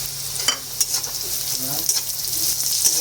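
Onions and green chillies fry in a pan, a close continuous sizzle with light scraping stirs and small crackles throughout, no talk over it.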